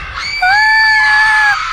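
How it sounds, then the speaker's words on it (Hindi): A woman's loud, sustained scream in an animated Hindi horror story, one piercing high cry of about a second that rises sharply and then cuts off, close and alone over faint background. "इतनी जोर से क्यों चिल्लाई तू?"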